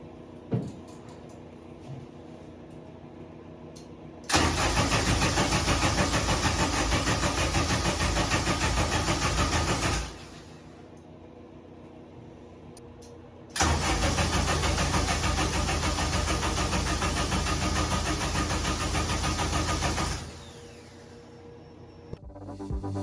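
A K-series engine in a supercar build is cranked with its fuel pump fuse removed and does not start. Two long, loud, even starter-cranking bursts of about six seconds each are separated by quiet pauses.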